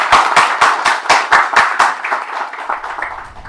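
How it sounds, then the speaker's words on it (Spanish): An audience claps in a quick, even rhythm at a talk on wind instruments, loosening into scattered, softer applause, close and lively. "Por favor, lo recibimos con las palmas."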